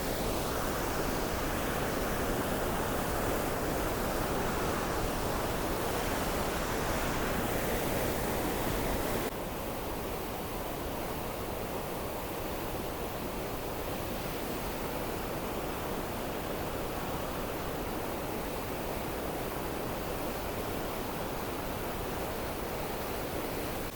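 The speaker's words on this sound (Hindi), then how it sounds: "आप ज़रा चेक कीजिएगा इस पानी का शोर जो पानी हेड बल्लो की के अंदर आ रहा है।" River water rushes through the Head Qadirabad barrage in a constant, loud, broadband roar that fills the whole stretch. The level drops a little partway through, and no voices can be heard.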